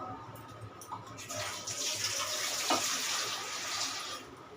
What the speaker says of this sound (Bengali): সামান্য জল দেবো